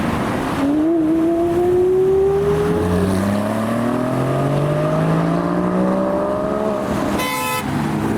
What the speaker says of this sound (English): I can hear revs in the background.